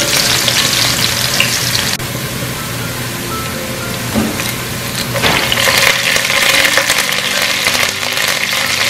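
Ginger, garlic and curry leaves fry in hot oil for a green grape pickle, producing a loud, steady, close sizzle with stirring scrapes running through it.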